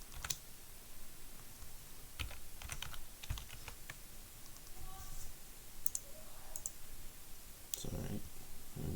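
Rapid, irregular clicking of keys on a computer keyboard at a kids' hacking event, steady close-up keystrokes running through the whole stretch with faint room noise and occasional brief voices in the background.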